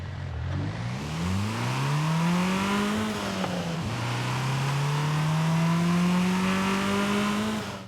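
The 1.4-litre engine of an Abarth 124 Spyder in Forza Horizon 5 climbs through the revs, dips briefly for a gear change, then pulls strongly again with a loud, close, buzzing exhaust note.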